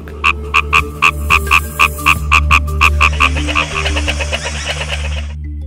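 Frogs croak in a steady, rapid series of loud, near calls, pulsing rhythmically before blending into a denser chorus.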